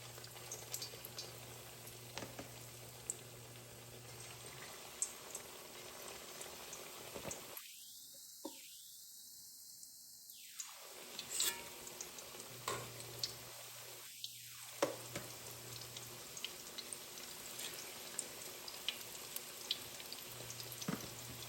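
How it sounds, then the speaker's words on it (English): Chicken tenders frying in a hot skillet give off a steady, low crackling sizzle that runs throughout, broken by a few brief silent gaps, with no talking over it. "the skillet is hot. I'm gonna go ahead and start frying my chicken tenders"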